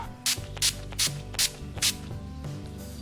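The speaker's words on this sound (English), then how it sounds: "So spray a bit of this on all over." Five or six short bursts of a makeup setting spray bottle hiss in quick succession, sprayed close onto a face, with faint music underneath.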